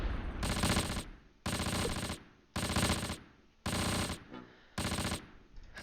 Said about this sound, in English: I hear machine gun fire.